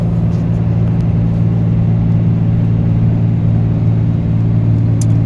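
A Ram 3500 pickup with a 6.7 Cummins diesel hauls 28,000 lb gross up a hill, its engine a loud, unbroken low drone and rumble heard from inside the cab.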